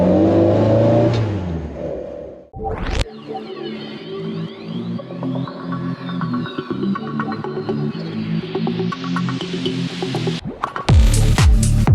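A classic Morris Minor drives along with its engine revving up and down, a close, continuous motor drone that rises and falls in pitch, with a few sharp knocks near the end.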